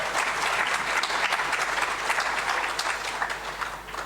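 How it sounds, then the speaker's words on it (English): A conference audience at a water and sanitation congress claps for its keynote speakers, a dense, continuous round of applause that stays loud throughout and eases slightly near the end. "Can we give our keynote speakers another round of applause?"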